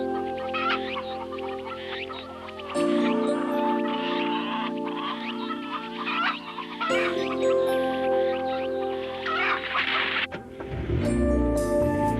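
Chickens cluck and call repeatedly in a farm setting, the fowl loud and near, with overlapping bursts and other barnyard noise continuing throughout and no voices.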